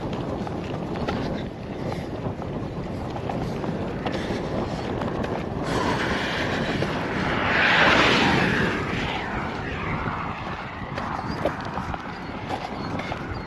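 Strong wind roars steadily across an outdoor walk along a subway route, a constant broadband rush that swells into a louder gust midway before settling back, with no talk.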